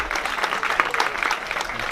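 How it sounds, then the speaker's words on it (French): A crowd at a lakeside event claps for Christian, many hands patting in a brisk, slightly uneven rhythm that stays lively and fairly close throughout. "Je souhaiterais d'ailleurs que vous l'applaudissiez"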